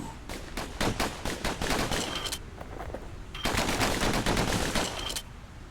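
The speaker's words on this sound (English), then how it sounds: "You know what's better than having a slinger pistol in a fight? Having two." Rapid gunfire from slinger pistols in the video game Bastion, a dense stream of sharp shots in two long bursts with a brief lull between, loud and close.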